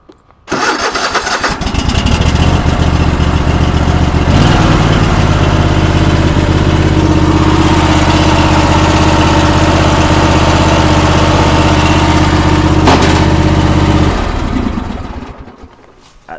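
An engine is started with no choke. It cranks briefly, catches and then settles into a loud, steady idle close by, and it shuts down near the end.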